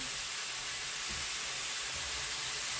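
A steady, dense hiss of tomato paste frying in fat in a pan, continuous and close, with no voices.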